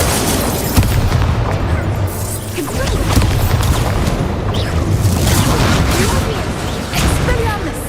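The Incendio fire spell being cast in Hogwarts Legacy gives a loud, continuous roaring, crackling burst of fire with booming impacts, under a voice speaking throughout.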